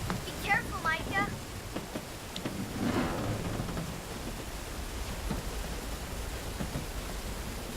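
Rain and thunder in an animated Lego film make a continuous wash of noise with a low rumble, while voices speak over it at the start and then fade as the rain carries on.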